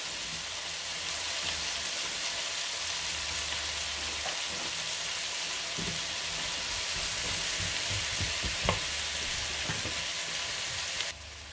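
Schupfnudeln for an Allgäu-style sauerkraut noodle dish sizzle and fry steadily in a pan, a dense continuous crackle with a few louder pops and stirring knocks, close and fairly loud with no talk.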